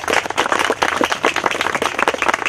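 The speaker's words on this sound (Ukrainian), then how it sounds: "Оплесками хочу привітати" A crowd claps at the opening of a renovated sports ground in Radekhiv, Ukraine. The applause is lively and close, with bright, quick claps running steadily throughout.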